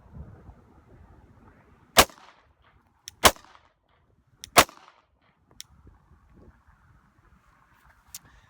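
Handgun shots ring out during a shooting drill as three sharp, loud cracks spaced about a second apart, then fainter distant pops over a quiet outdoor background.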